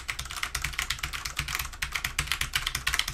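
Fast, steady typing on a Rosewill illuminated mechanical gaming keyboard with Cherry MX Brown switches, a close, continuous run of crisp clacky keystrokes with no pauses and no voices.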